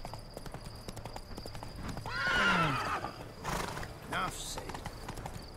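Roach the horse in The Witcher 3, hooves clip-clopping steadily under the rider, with a loud neigh partway through, and someone speaking briefly over it.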